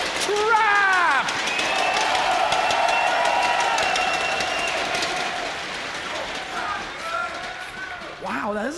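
A crowd cheers and applauds at a StarCraft WCS quarterfinal tournament in a loud, sustained roar with whistles and shouts. Commentators talk over the noise throughout.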